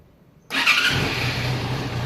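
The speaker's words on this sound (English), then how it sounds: "Alright, I'm starting the motorcycle." Yamaha FZ6R motorcycle engine starting after silence, catching abruptly at about half a second and settling into a steady close idle.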